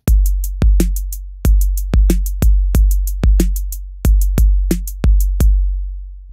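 A fast 16th-note drum groove, played sped up, with steady punchy kick and snare hits under a dense run of crisp cymbal ticks, loud and close with no talking.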